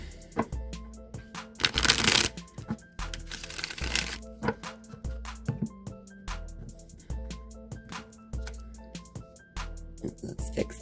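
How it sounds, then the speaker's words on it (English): A Rider-Waite tarot deck is shuffled close up, with repeated soft riffling and card slaps and two longer, louder bursts of cards rippling together. "One more shuffle."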